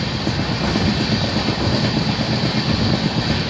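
The Gandhidham to Tirunelveli express runs along with a nearly empty coach, giving a continuous loud rolling rumble with faint clickety-clack of wheels on rail joints and no talking.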